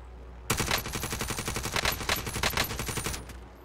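Rapid automatic gunfire from a shooting video game bursts in suddenly and rattles continuously for about three seconds, dense repeated shots with heavier peaks, then cuts off.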